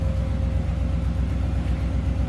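A 1949 Ford F1 pickup's flathead V8 idles steadily and smoothly, a close, even low rumble with a regular pulsing beat and no one talking.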